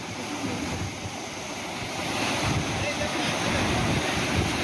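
Floodwater rushes after heavy rain and a collapsed culvert, a constant loud broadband roar that swells slightly partway through, with wind buffeting the microphone and no break in the flow.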